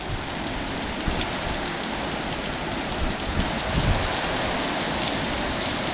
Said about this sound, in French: Ça c'est un bel orage, hein.